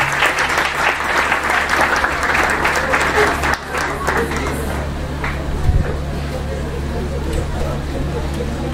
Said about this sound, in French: les applaudir chaudement, s'il vous plaît.